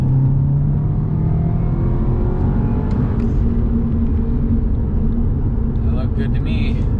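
An Audi S3 accelerating hard under turbo boost, a loud, close, continuous engine roar climbing in pitch from inside the cabin, with a voice briefly over it.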